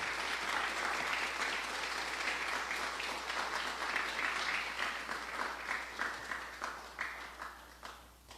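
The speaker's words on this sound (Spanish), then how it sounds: "Dale el aplauso al Señor." Congregation applauding during a church service, sustained dense clapping that holds steady and then thins and fades toward the end.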